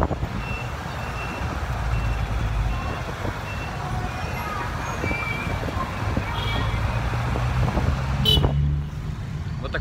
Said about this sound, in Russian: пару слов о местном трафике